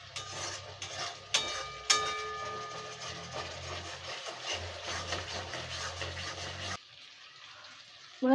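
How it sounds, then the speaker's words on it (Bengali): Spiced water poured into a pan of jackfruit curry makes a continuous splashing, rushing sound with a few knocks against the pan, then falls quiet near the end. "এবার মশলা দেওয়া জলটা দিয়ে দেবো, দিয়ে ভালো করে কষে নেবো"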